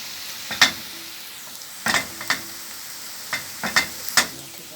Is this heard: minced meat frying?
yes